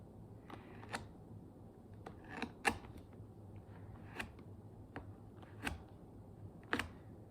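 Scissors cut through material while a bareback riding glove is prepared: a series of separate snips and crisp clicks at an irregular pace, close and fairly quiet, with no one speaking.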